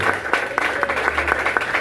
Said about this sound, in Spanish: Denle un aplauso al Señor en esta tarde.